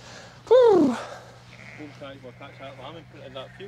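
A sheep lets out one loud, close bleat during lambing, a wavering cry lasting about half a second, followed by people talking nearby over a low steady hum.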